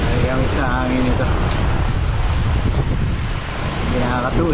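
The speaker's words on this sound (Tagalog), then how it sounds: "Nag-wind, sobrang lakas." Strong wind roars into the microphone during a long-distance 600 km audax cycling ride, a constant loud buffeting rush that covers the whole stretch. Faint voices surface briefly at the start and near the end.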